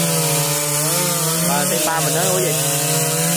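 A chainsaw cuts through a Taiwan table tree on a secondary school ground, its loud, steady engine drone close by and dipping in pitch as it bites into the wood, while a voice speaks over it.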